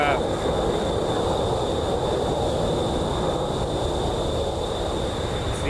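Steady, dense jet-engine roar of a B-2 bomber in Microsoft Flight Simulator 2024, a constant broadband drone with a faint high whine and no change in level.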